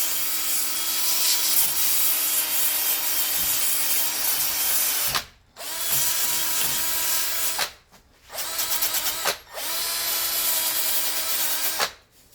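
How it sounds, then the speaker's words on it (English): Sandpaper of about 150 grit rubs surface corrosion off the wheel hubs of a 1985 Mercedes 300SD, a steady close scratching broken by three short pauses. "So let me go ahead and sand that down."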